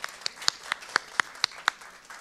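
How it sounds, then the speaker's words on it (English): Scattered audience clapping at a traditional folk music awards showcase, about eight distinct sharp claps spaced evenly a quarter second apart, moderately loud and close with no talking. "Big applaudissement pour them."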